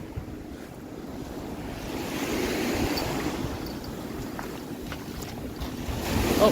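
Ocean waves surge and wash against the shore in Hawaii, a steady broadband roar that swells slightly toward the end, with wind noise and no voices.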